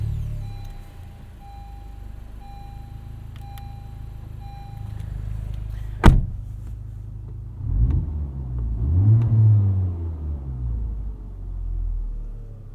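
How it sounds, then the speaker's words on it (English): 2019 Honda Civic Type R engine starting up with a sharp crank, then a deep rumbling idle that swells and settles, close and loud after a quiet interior lead-in. "let's start this thing up"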